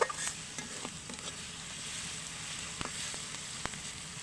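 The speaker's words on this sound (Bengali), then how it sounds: "তো এইখানে মশলাটা আমি সুন্দর করে ভেজে নিব" Spices frying in a pan for an Eid meat curry, a soft continuous sizzle with a few light clinks and scrapes of a utensil, fairly faint and without talk.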